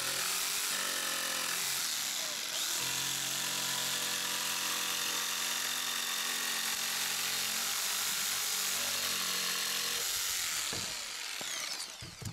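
A Makita power saw cuts steadily at close range, its motor whining with a rising and falling pitch as the blade bites in, then winds down near the end.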